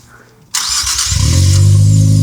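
After a brief quiet moment, a 2023 Nissan Z with an aftermarket APEXi exhaust fires up abruptly with a loud burst, settling into a deep, rumbling idle close by.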